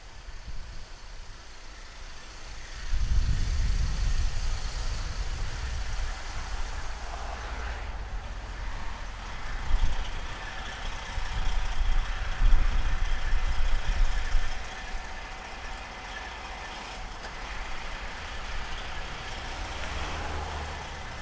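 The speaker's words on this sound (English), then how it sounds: "Let's take our Lincoln Mark IV out for a ride." A black 1976 Lincoln Continental Mark IV pulling away for a drive, its big engine a steady low rumble that rises after a quiet start and surges again midway, moderately loud with traffic-like hiss around it.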